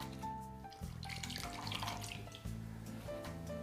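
Clean water runs from a tap into a container in a kitchen setting, a steady close rush with brief pauses and shifts in pitch as the vessel fills.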